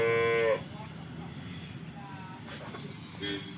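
A dairy cow gives a single loud, close moo at the start, then farm background noise continues with faint sounds and a brief vocal call near the end.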